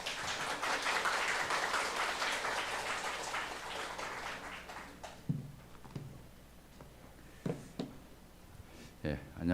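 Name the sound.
applause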